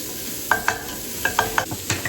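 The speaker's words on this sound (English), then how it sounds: "bit of olive oil in there, just cooking with the onion" Onion frying in olive oil in a pan for spaghetti bolognese, a soft steady sizzle close by, with several light clinks and scrapes of stirring.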